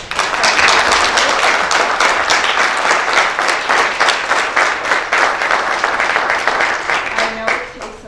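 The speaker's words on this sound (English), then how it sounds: "I'm going to suggest that we give applause for the candidates" An audience at a school board meet-the-candidates night gives a sustained round of applause, loud and crowded with individual claps audible, fading toward the end.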